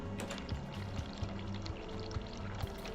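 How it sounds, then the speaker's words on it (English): Hot water runs from a tap in a quiet, continuous pouring stream, with a few faint knocks and clatters mixed in. "And run hot water."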